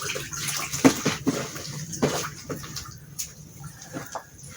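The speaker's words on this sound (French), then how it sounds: "Donc, on met notre carton dans notre eau." Cardboard soaking in a basin of water for a worm composter, with faint wet splashes and drips and a few soft sloshing thuds over a quiet background.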